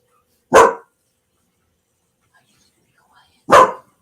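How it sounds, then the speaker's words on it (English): Two single sharp barks from a dog reacting to other dogs nearby, close and loud, spaced about three seconds apart with near silence between them. "Oh, he hears the other dogs, your mom's dogs."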